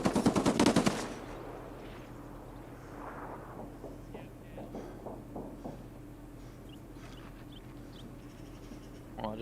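Short burst of rapid automatic gunfire from a rogue enemy in a first-person shooter, loud at the very start and then giving way to faint scattered game sounds.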